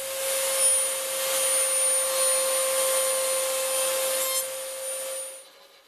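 A router with part of a fancy moulding bit and a fence cuts the edge of a wooden piece, giving a loud steady high whine with a rough cutting rasp throughout. The sound then cuts off and the motor spins down near the end.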